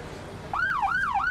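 An ambulance siren wails in a smooth rising-and-falling sweep, kicking in abruptly partway through and cycling about twice, steady and moderately close with no talk over it.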